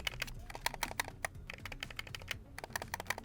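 Buttons on a Sony PS5 DualSense Edge controller click rapidly and irregularly, a close, muted run of small plastic taps with no talking.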